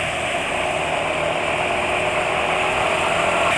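A Yamaha NMAX scooter engine with VVA runs at half throttle, a steady close drone that holds even with no change in loudness.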